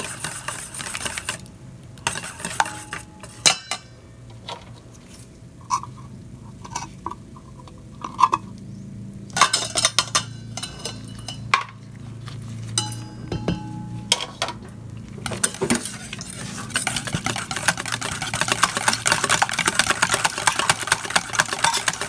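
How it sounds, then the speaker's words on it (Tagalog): Condensed milk whisked into whole eggs in a bowl for leche flan, irregular clinking and tapping of a utensil against the bowl with short pauses, then a steadier rapid whisking toward the end. "Habang nilalagay natin ang condensed milk, mix lang ng mix."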